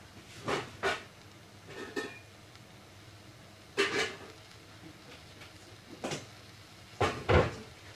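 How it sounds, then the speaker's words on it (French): A lid is set gently over a pot of cooking apples for compote, giving several short clinks and knocks spread across the moment, fairly close and moderately loud, with no talking. "Alors, on va recouvrir tout doucement avec un couvercle"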